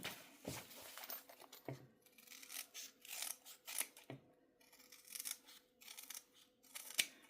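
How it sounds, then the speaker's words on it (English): Scissors snip and rasp through fabric while trimming the corners of bag pockets, a series of close, quiet cuts with short pauses between them and no voices. "Trimmed off my pocket corners there."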